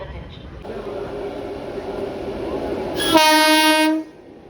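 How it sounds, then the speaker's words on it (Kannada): The Chikkamagaluru to Shivamogga Town passenger train, number 56272, rumbles into a station and sounds a loud, sustained horn for about a second near the end, with a rising rumble beforehand. "ಚಿಕ್ಕಮಗಳೂರಿಂದ ಶಿವಮೊಗ್ಗ ಟೌನ್ ಹೋಗೋ ಟ್ರೈನ್ ಬಂತು 56272"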